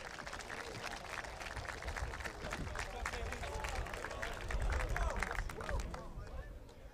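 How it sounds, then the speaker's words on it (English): Audience applause fills a hall at a military academy's annual achievement awards ceremony, a steady wash of clapping from a sizeable crowd that swells slightly near the end, with murmuring beneath. "Let's give these gentlemen a round of applause"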